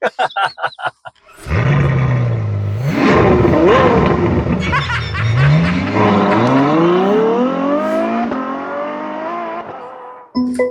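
A Mercedes-Benz G580 electric SUV with EQ technology spins in place, giving a loud, close electric motor whine that rises and shifts in pitch, with tire scrub for about nine seconds, bracketed by brief knocks.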